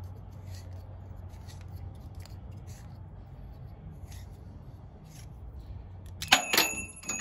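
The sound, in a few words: tube cutter cutting through aluminum fuel line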